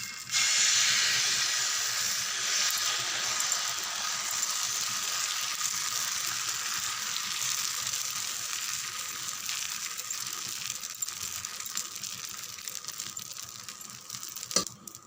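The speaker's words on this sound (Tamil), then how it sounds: "இங்கே பாருங்கள், தோசை தான் ஊற்ற போகிறேன்." Dosa batter hits a hot griddle with a loud, close sizzle that starts suddenly and then settles into a steady hiss that slowly fades, ending with a faint clink.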